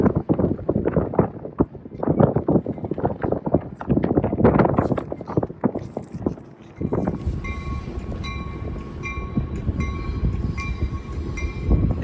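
A Metra commuter train rolls past nearby with rhythmic clacking of wheels over rail joints, then settles into a steady rumble with a faint tonal hum.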